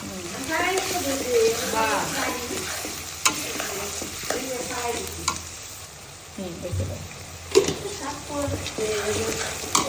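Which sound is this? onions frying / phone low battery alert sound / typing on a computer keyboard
onions frying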